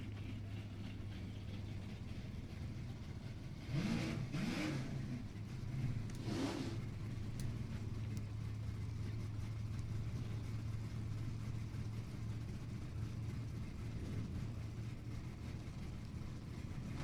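A Firebird drag car launches down the strip at an NHRA race, a steady engine drone from the staging lanes jumping into a loud, rising surge that sweeps away and fades, with crowd and track ambience around it.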